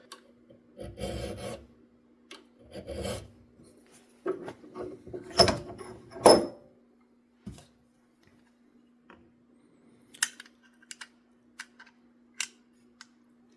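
Hand file rasping on the thumb safety of a 1911 pistol during fitting, heard as short bursts of close, scratchy strokes in a few clusters, with pauses and small handling clicks between them, no talk.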